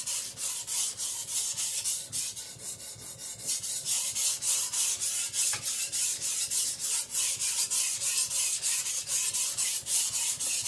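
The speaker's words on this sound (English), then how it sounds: "Now I'm gonna sharpen it at around 12 to 15." Steady rhythmic rasping strokes of a Chinese cleaver's edge sharpened on a whetstone at a low angle of around 12 to 15 degrees, close and continuous with no talk.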